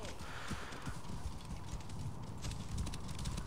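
Horse hooves clip-clop steadily at a walk in Assassin's Creed Origins, set in ancient Egypt, with a rhythmic patter of low thuds over constant game ambience.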